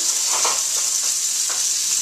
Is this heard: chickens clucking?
no